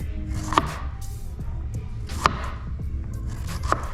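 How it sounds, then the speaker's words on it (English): Crisp crunching and snapping as layers of red cabbage are pulled apart by hand, three sharper cracks standing out over a low, steady background rumble. "Now break this apart with your hands"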